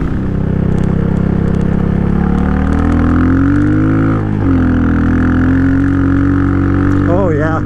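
A Royal Enfield Meteor converted into a dirt bike roars loudly and steadily through its exhaust while riding, the engine drone rising and falling slightly with throttle, with brief talk mixed in.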